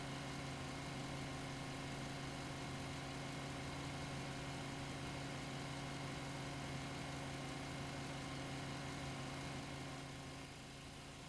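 Construction equipment in the FlightFactor 757 flight simulator, a steady low droning engine rumble like heavy machinery idling, constant and fairly faint throughout with no talking.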